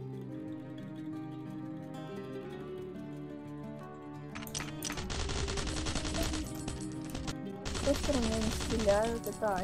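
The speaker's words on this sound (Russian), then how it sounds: "Там чувак на крыше, который тупо стреляет." Gunfire from a player shooting off a rooftop in Last Island of Survival, bursts of rapid shots breaking in after a quieter stretch of steady musical tones, fairly loud and repeated, with brief speech nearby.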